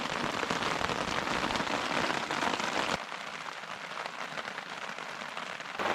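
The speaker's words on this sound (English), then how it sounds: "Still raining, evidenced by water coming off the tarp." Steady rain patters and drips heavily onto a tarp nearby, a dense continuous spatter that briefly softens midway before picking up again.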